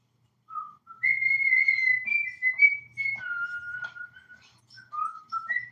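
A person whistles the Superman theme close up, holding clear sustained notes with short pauses between phrases, alone with no talking.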